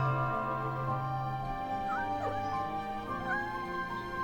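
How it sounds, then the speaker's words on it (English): Kitten in the video game Love and Deepspace crying with a few short, high, wavering mews over a steady droning music bed, soft and close. "The kitten cries"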